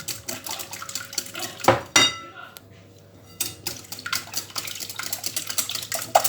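Mouskoutchou cake batter being mixed in a bowl, with a utensil clanking and scraping against the sides in rapid, irregular strokes, briefly pausing before resuming, close and fairly loud.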